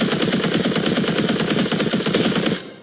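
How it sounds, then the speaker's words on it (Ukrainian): Sustained automatic gunfire from a shooter video game, Combat Arena, a rapid steady stream of loud close shots lasting a couple of seconds before cutting off abruptly. "Тихо, стріляю."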